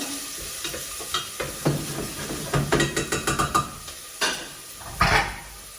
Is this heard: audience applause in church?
no